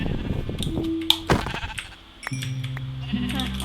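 Sheep bleat a few times amid a busy background of game sounds and music, with short tonal cries standing out over steady clatter.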